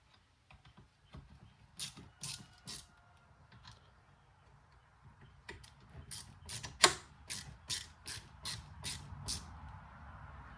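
Ratcheting clicks from tightening a fastener while installing steering column wiring on a 1966 Mustang Fastback, a quiet scattered series of sharp mechanical clicks that becomes a rapid, evenly spaced run of ratchet clicks near the end.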